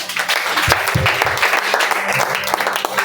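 A congregation at a French-speaking church service claps steadily, with dense, sustained applause filling about three seconds at close range and no clear voices over it.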